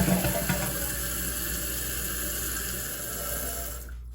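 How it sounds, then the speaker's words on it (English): A Kohler toilet flushing after a canister seal replacement, a loud close rush of water that holds steady for several seconds before cutting off abruptly at the end. "Let's go ahead and give it a flush."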